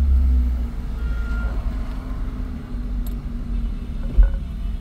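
A car engine drives in second gear, heard from inside the cabin as a steady, loud low rumble with slight swells as speed builds, and no talking.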